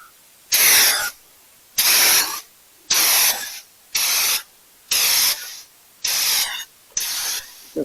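Primer sprayed from an aerosol can fitted with a turbo nozzle, applied over bodywork before filler: seven loud, even hissing bursts of about a second each, separated by short pauses, up close with no talking.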